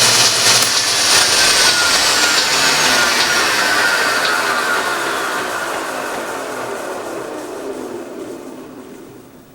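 A Monarch 10EE lathe with a new SCR drive shuts off and its dynamic brake slows the spindle. A loud, close machine whine falls steadily in pitch and fades over several seconds.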